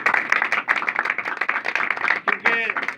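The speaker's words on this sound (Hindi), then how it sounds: "एक बार जोरदार ताली" An audience claps hard for a newly arrived guest at a religious talk, a dense, steady patter of many hands that goes on throughout, mixed with voices.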